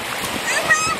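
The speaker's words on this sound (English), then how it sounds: "Jump, splash." A single short splash as someone jumps into ocean water at the beach, a close burst of spray and churning water.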